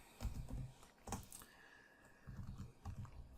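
Light tapping on a computer keyboard while entering names into an Excel spreadsheet: a few quick, close, soft keystroke clusters with short pauses between them, quiet and alone.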